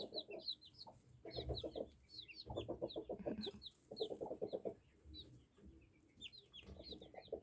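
Chickens cluck softly close by, with high peeping chicks chirping in quick bursts over the clucking.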